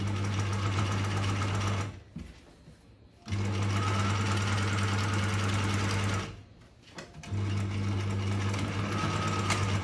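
A sewing machine stitches a pocket on work shorts, running in three long steady whirring runs with a droning hum, broken by two short pauses where it slows and stops.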